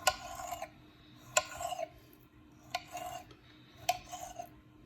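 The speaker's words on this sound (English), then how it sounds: "I'll take each one, cut them into thin strips." A knife slicing beef steak into thin strips on a board for pepper steak, in four separate rasping strokes spaced about a second apart, each ending in a light tap, close and clear with no talking.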